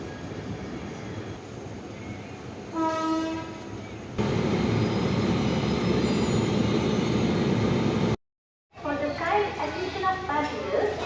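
The Venad Express at platform 6 of Shoranur Junction railway station: a steady low rumble of the train, a brief horn-like tone, and a broad burst of station noise, all continuous apart from a short dropout near the end.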